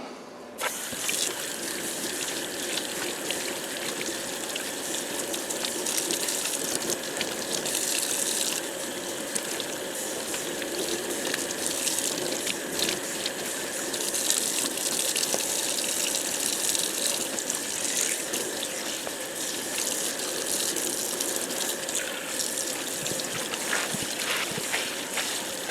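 Water runs steadily from a tap during an ice-dye tie-dye washout, a constant rushing splash that stays even and fairly loud throughout.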